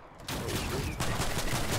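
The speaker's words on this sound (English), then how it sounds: "I was shooting you, bro." Rapid gunfire in a first-person shooter video game, a dense stream of sharp shots that starts abruptly and keeps going without pause, close and loud.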